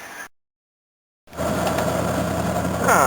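A Jaguar car engine runs steadily at idle after a brief cut, a continuous close mechanical hum with a slight rise in level near the end; no one speaks.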